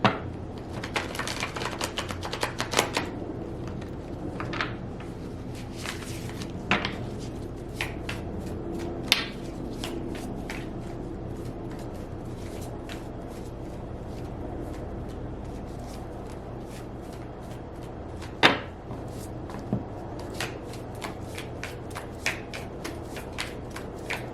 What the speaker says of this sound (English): I'm going to shuffle once and then we'll get into it.